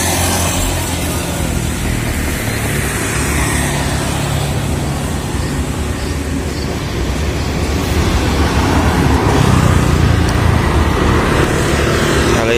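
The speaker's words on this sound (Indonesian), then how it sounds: "Suasana jalanan ini sudah mulai ramai untuk sore hari." Steady roar of busy afternoon street traffic, cars and motorbikes passing in a continuous dense wash of engine and tyre noise, growing a little louder toward the end.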